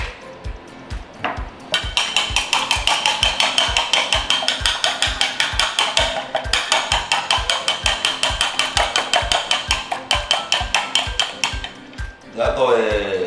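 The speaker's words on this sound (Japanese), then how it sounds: "で卵は、溶いておきますね。" Eggs are beaten in a bowl for a Chinese-style fluffy crab omelette, making a fast, steady run of sharp clinking taps against the bowl, close and loud, continuing for several seconds before trailing off.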